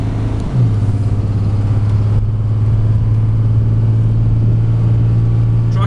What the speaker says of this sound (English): It sounds really nice with that exhaust system.